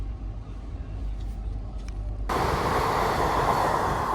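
The Chamarajanagar–Tirupati Express rumbles through Vinnamangalam railway station, with a steady low roar heard from aboard that abruptly swells louder and brighter midway, becoming a dense, continuous rushing clatter.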